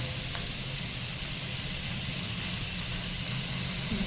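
Onion, carrot, cabbage and capsicum stir-fry on a full flame, a loud, dense, unbroken sizzle with a low roar underneath, close and continuous.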